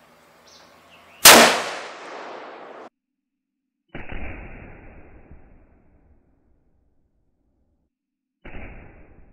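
A 300 Win Mag rifle fired at a target of flour outdoors: one sharp, loud crack followed by a decaying echo, with a couple of later rumbling impacts or echoes separated by silence.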